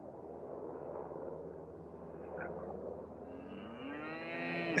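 Cattle on a farm lowing in the distance, one long rising moo building toward the end over a faint background rumble.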